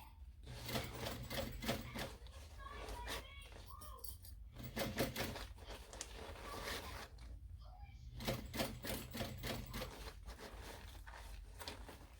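Backpack lining is fed through a sewing machine with a half-inch seam, giving repeated short bursts of stitching and clatter. The sound stays close and fairly quiet, with brief handling noises between runs.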